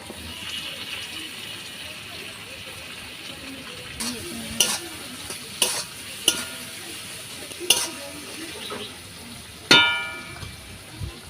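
Chopped tomato frying over browned onion in a pan, a continuous sizzle broken by sharp spatula scrapes and stirring clatters that grow louder toward the end.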